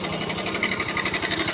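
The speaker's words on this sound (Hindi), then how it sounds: "इसकी जो आवाज़ है वो यानी कि टाइमिंग चेन का आवाज़ है।" Close-up of an idling Bajaj Pulsar 150 engine with a rattling timing chain, a rapid, regular metallic clatter over a low, throbbing idle pulse, steady from start to finish.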